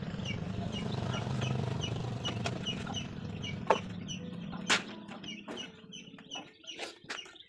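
Chickens clucking during feeding time, a close murmur of soft clucks at first, then sharper, separate calls and a few louder squawks toward the end.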